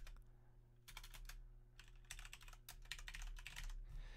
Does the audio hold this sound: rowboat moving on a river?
no